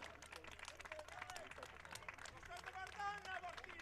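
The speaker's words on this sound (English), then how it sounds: "Nice round of applause for the MKA faithful that's here" Scattered applause from home supporters at a New Jersey prep boys' soccer championship match, mixed with crowd chatter and nearby voices, moderately distant and uneven.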